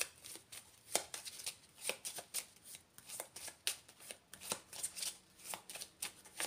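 A 32-card gypsy tarot deck being shuffled by hand, with a steady run of soft papery riffles and flicks repeating over several seconds, close and fairly quiet with no talking.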